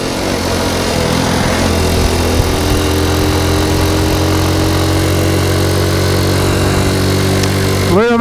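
A Honda Cub C90 motorcycle running flat out at about 50 mph, its small engine giving a steady, loud, high buzzing drone at full throttle with wind rush, while a rider talks over it.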